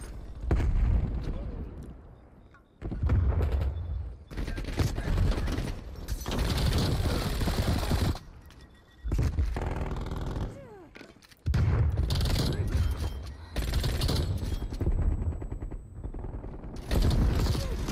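MAC-10 submachine gun bursts in the Black Ops Cold War shooter game, loud rapid rattling volleys in repeated bursts separated by short pauses, mixed with explosions and mechanical clatter while players talk over it.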